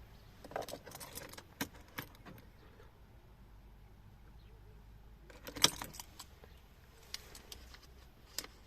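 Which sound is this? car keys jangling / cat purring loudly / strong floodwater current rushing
car keys jangling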